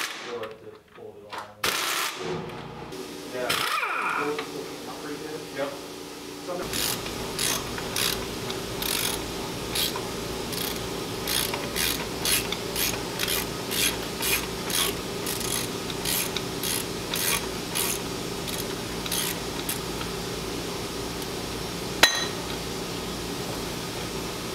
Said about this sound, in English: Got a 13 millimeter socket on this bolt because it was kind of rounded out